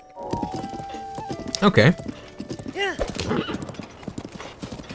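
Horse galloping in The Legend of Zelda: Breath of the Wild, Switch 2 Edition, with steady clip-clop hooves and a whinny, while someone talks over it.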